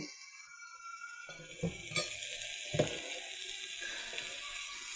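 Ginger added to a hot pan, sizzling quietly with a few brief clatters and stirring scrapes, the frying hiss swelling after the additions.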